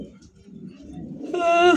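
Low, rolling coos from a large black Indian dauka pigeon pulse repeatedly, then a brief higher, tonal sound rises near the end.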